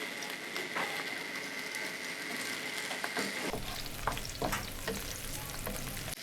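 Sliced onion drops into about six tablespoons of hot oil for a beef biryani gravy, raising a dense, steady sizzle that swells mid-clip, with scattered stirring clatters over continuous frying hiss.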